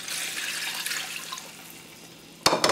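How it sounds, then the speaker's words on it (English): Frying masala in a pan for mullet fish curry sizzles softly, then water is poured in near the end with a sudden splashing gush. "about 3 cups of water I'm adding"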